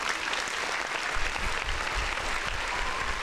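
A round of applause rolls on as a dense, steady wash of many hands clapping, fairly loud and unbroken for a few seconds.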